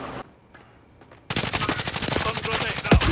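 Rapid automatic gunfire in a first-person shooter video game with a Vargo S assault rifle, a dense, loud burst of shots that breaks in after a quiet second and keeps rattling steadily to the end.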